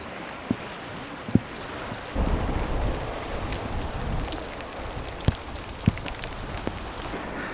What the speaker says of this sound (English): it absolutely chucked it down with rain